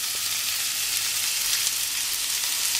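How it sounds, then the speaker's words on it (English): Mushrooms frying with browned garlic in a pan over lively heat, giving a steady, even sizzle that carries on unbroken throughout at close range, with no voices. "we're basically going to fry these, stirring them regularly until they shrink to about half the size"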